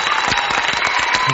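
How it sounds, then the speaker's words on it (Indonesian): A short applause sound effect played from a V998 karaoke soundcard: clapping from a crowd, dense and lively, over a brief moment. "Tepuk tangan."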